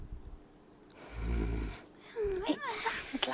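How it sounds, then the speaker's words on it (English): Snoring sounds in a children's show segment on night noises, a single breathy rasping snore followed by a softer snorting, wheezy breath, close and fairly quiet. "It sounds like Tamba snoring."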